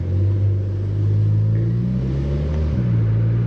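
A Stage 2 tuned VW Polo GTI engine drones and revs while driving at night, a steady low rumble heard from inside the car with a shift in pitch near the end.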